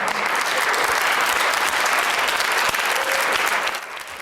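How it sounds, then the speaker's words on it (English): A small round of applause fills a Senate Judiciary Committee hearing room as a civil unions bill is approved, steady and fairly even from start to finish, with no talking over it. "A small round of applause as the committee approved it last night."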